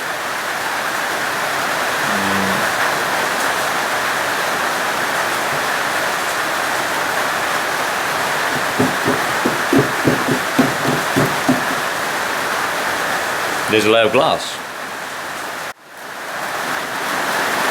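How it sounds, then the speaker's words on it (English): Heavy rain pours down during fibreglass work, making a dense, steady hiss throughout, with a few soft taps and a short spoken remark partway through. "Don't know whether you can hear me with all that racket the rain's making"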